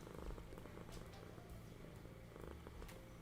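A pet cat purrs close by in a steady, low rumbling rhythm. Light rustles and small handling noises sit over the purring, and there is no talk.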